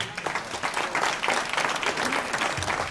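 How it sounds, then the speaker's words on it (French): Enthusiastic applause from a crowd honouring a boxing world champion, dense and steady clapping that fills the whole moment without pause. "on peut faire un tonnerre d'applaudissements"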